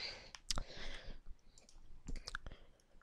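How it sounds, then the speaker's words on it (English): A computer mouse clicks quietly in a few sharp, close taps, including a quick pair close together, against faint background noise. No one speaks. "double click on it."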